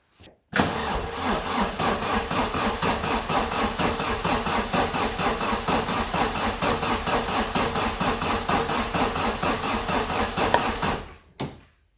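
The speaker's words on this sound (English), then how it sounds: "I'm going to crank it back over and see how we get on with this one" A 1994 Vauxhall Astra GSi engine cranking on the starter for a compression test, a loud, steady rhythmic churning lasting about ten seconds without firing, then stopping abruptly.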